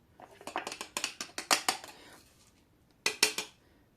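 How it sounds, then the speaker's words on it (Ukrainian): A spoon scrapes and knocks oat-and-egg batter out of a mixing bowl, about a dozen sharp clinks and scrapes in quick bursts, a short pause, then a few more close strokes. "Висипаємо це все, вишкрябуємо."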